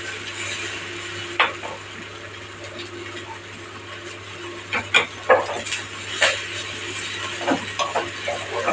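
Vatha narayanan leaves are sautéed with garlic, onion and spices in a pan, with scattered scrapes and knocks of a stirring spoon over a low background hiss of cooking.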